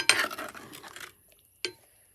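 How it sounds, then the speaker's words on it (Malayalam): A spoon stirs food in a cooking pot on a home stove, making a run of scraping, clinking strokes up close. A single sharp metallic clink comes after a short pause. "ഇളക്കി കൊടുക്കാം."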